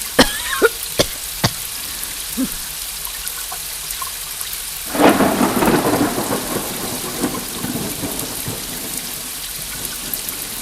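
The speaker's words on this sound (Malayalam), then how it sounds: "വേനൽക്കാലത്തൊരു മഴ." A summer rain shower comes on in a burst of dense, close patter after a few sharp knocks, then keeps falling steadily at moderate loudness with no speech.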